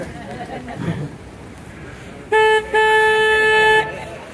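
A boat horn sounding on the San Antonio River Walk in Texas, one short blast then a longer sustained tone, loud and close over outdoor background chatter.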